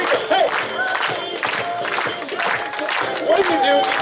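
A lively crowd at Walt Disney World's BoardWalk Resort claps and cheers steadily, with shouts and whoops mixed in and voices talking underneath.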